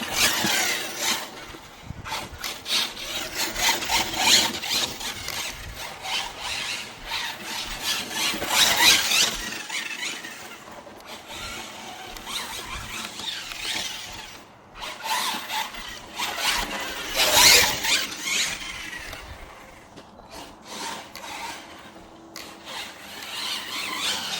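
A HoBao Hyper TT RC car's small motor whines and revs unevenly on a dirt track with gritty scraping and crunching, surging loud at moments, continuous throughout with no voices.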